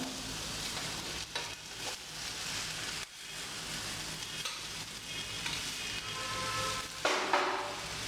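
Tomato, tamarind and green chilies sauté in a hot pan, a steady soft sizzle broken by a few scraping stirs, fairly quiet with no talking.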